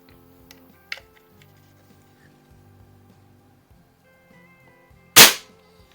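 A Benjamin model 352 .22 caliber CO2 rifle from about 1954–57, firing 8-gram cartridges, lets off a single sharp, loud crack near the end, with faint clicks and low background hum before it.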